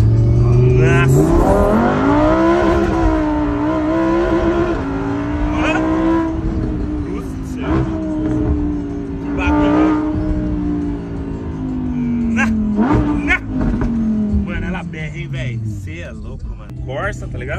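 A Lamborghini with a fast-shifting gearbox accelerates hard near a beach, its engine note rising in long sweeps and dropping with quick gear changes, loud and close from inside the cabin while people talk over it.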